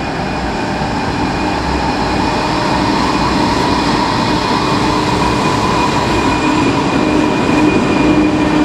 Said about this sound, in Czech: The train is ready for departure.